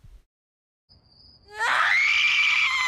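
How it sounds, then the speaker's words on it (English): Gumball, a cartoon character, lets out a long, loud, high-pitched scream that starts suddenly after near silence and holds at full strength to the end. "Gumball has one of the best screams I've ever heard"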